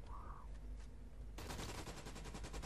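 Rapid automatic gunfire from the shooter video game Special Forces: Team X rattles out in a dense, steady burst of repeated shots, starting abruptly after a brief quieter moment with an electronic tone.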